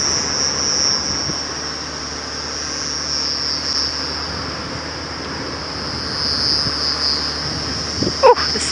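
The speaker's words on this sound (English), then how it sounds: "The cicadas are unbelievably loud tonight." Cicadas on an African safari drive at night, a loud, steady high-pitched buzzing drone that runs throughout over a low rumble of vehicle noise, with a few brief knocks near the end.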